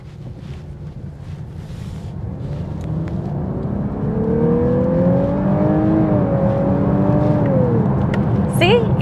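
A 2023 Lexus LC500h with a 3.5 liter V6 hybrid engine runs with a steady low drone that swells slightly in the middle, heard outdoors with wind noise against the microphone.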